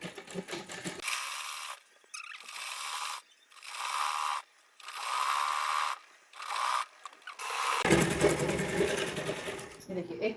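A sewing machine stitches the fitting seam of a plain frock in several short whirring bursts separated by pauses, close and clear, with a little talk at the start and end.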